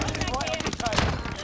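Rapid gunfire rattles in quick repeated bursts, near and fairly loud, under excited voices talking.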